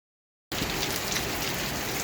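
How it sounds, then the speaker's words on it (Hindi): Rain falls steadily in Lonavla during a downpour lasting two days, a close, even hiss of drops striking surfaces that starts abruptly after a short silence and continues unbroken, with no voices. "48 घंटे हो गए बारिश रुकने का नाम नहीं है"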